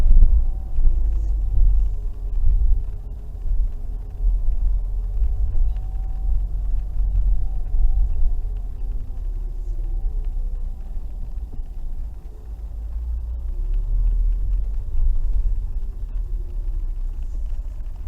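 A car engine rumbles steadily as the vehicle is driven slowly during a driving lesson, a low continuous drone with faint road noise and no talking.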